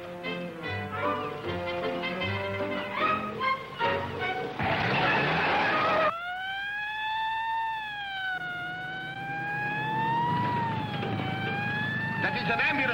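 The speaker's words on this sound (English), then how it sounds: "That is an ambulance siren." An ambulance siren wails, rising and falling in long sweeps, loud and close, following a stretch of talking and clatter.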